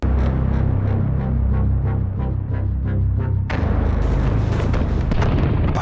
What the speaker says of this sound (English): But his infantry came under heavy fire from 76 French guns, blasting great holes in their ranks